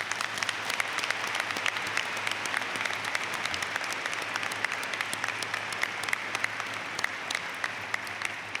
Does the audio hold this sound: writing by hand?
no